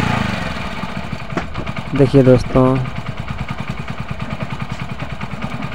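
Idling engine of a Hero Splendor Plus BS6 motorcycle after a stalling fix, a steady low putter running throughout at close range with someone talking over it.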